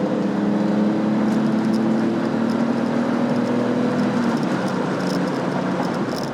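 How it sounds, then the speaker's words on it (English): An older BMW E24 M6 engine runs at a steady, fairly even drone, heard close with no talk over it. "the engine just loves revving out"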